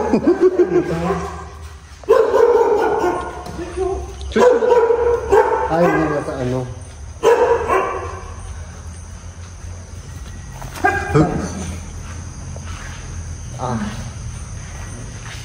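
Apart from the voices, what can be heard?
dog barking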